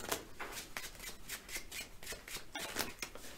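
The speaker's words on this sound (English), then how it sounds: "I'm doing conventional overhand shuffles and you're doing your finest table riffle shuffles." Two decks of playing cards shuffled at once, one by overhand shuffling and one by table riffle shuffling, giving a quick continuous run of papery flutters and snaps close by with no talking.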